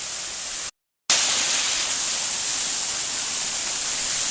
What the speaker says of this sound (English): This waterfall was a little different than the rest of them I've seen.